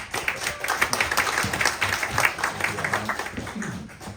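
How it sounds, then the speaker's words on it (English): An audience at a startup pitch session claps as a presenter is called to the stage, a short round of close, crisp applause with uneven bursts over a few seconds. "please give a round of applause and bring the startup person to the stage"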